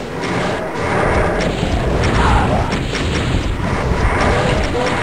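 BFG weapon firing in the video game Doom on Sunlust map 15, Strength and Anger, with heavy booming blasts and crackling explosions filling a dense, loud stretch of game noise.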